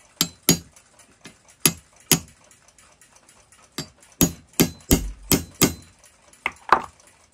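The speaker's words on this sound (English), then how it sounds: "I'll lightly punch each spline to swage the metal to a snug fit." Metal punch lightly striking the splines of a restored Aititokeidenki ship's clock movement on an anvil to swage them, producing a series of sharp, close taps in irregular clusters with brief quiet gaps.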